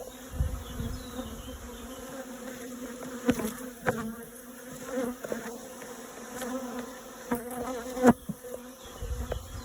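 Honey bees buzz in a hive kept in an attic, a dense steady drone close by, broken by a few sharp knocks and handling sounds.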